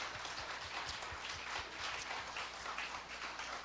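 Sustained applause of thanks from a church congregation at a lecture, a dense continuous patter of many hands, faint and distant.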